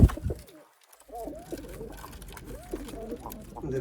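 Sialkoti pigeons coo repeatedly in rolling, throaty phrases, close and fairly clear, after a brief sharp noise and a short pause at the start.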